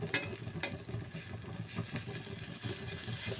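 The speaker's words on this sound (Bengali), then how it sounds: "কাঁচা মাছটা আমি এইভাবে বাজিয়ে নিচ্ছি।" Raw fish frying in a pan for a sidol bhorta preparation, a steady crackling sizzle with stirring scrapes running throughout at close range, with no talking.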